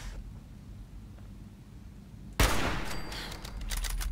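A raider turret in Fallout 4 opens fire after a quiet stretch: one sharp burst of gunshots followed by scattered rapid cracks and rattling, moderately loud against low background hum.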